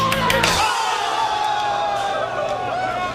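Air hockey tournament crowd cheering and whooping in a loud, dense roar. A sharp burst of shouts opens it, then the cheering holds steady to the end, with mixed voices and yells layered through it.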